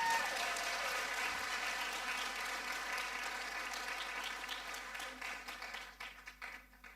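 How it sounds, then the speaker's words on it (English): Applause from the audience at a World Africa Day event, a sustained wash of clapping that gradually fades and thins toward the end. "Another round of applause."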